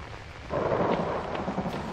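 Thunder from a lightning storm in the horror video game Outlast rolls in suddenly as a broad, loud rumble and sustains with a rain-like wash, with no voices over it.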